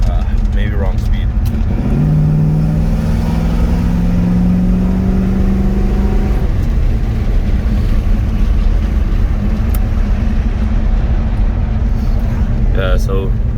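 The 455 engine of a 1968 Pontiac LeMans accelerates and kicks down, a rising drone under heavy wind and road noise that climbs for a few seconds and then settles into a steady loud cruise.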